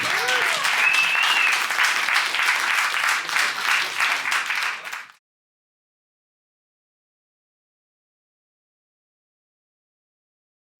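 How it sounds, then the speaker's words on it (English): Audience applause at a comedy and variety show, dense clapping from a crowd with a few cheers, loud for about five seconds and then cutting abruptly to silence. "keep the round of applause going for your next act"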